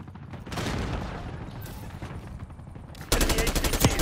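Gunfire rattles through a Call of Duty: Black Ops 6 multiplayer match, with dense bursts of shots and a sharper, louder rapid automatic volley near the end, close and without speech.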